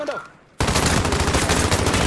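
Dense, loud automatic gunfire in Call of Duty: Modern Warfare bursts in abruptly after a brief quiet moment and roars on without pause, a sustained fusillade of rapid shots.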